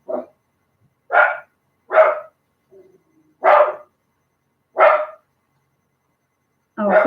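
A dog barks about six times in short, sharp bursts separated by quiet gaps, close by and loud, with no one speaking.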